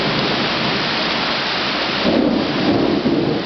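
Heavy thunderstorm at night with steady loud rain on surfaces and a deep rumble of thunder swelling midway, continuous and close.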